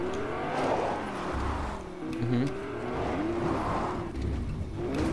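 A car engine in Fortnite hums and revs in waves during a Rocket League–style challenge, a steady game motor sound that swells and drops several times under players talking.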